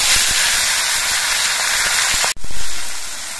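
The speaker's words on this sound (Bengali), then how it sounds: "এবার মাছগুলো আমি অল্প করে দিয়ে ভেজে নিচ্ছি।" Fish frying in hot mustard oil in a wok gives a loud, close, steady sizzling hiss. It cuts off sharply for an instant and then surges back before easing slightly.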